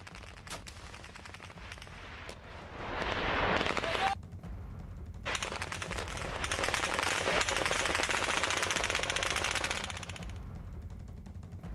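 Gunfire from fighting between Taliban and resistance forces in Panjshir, Afghanistan: long, rapid bursts of automatic fire that swell and fade over several seconds, heard at a moderate distance.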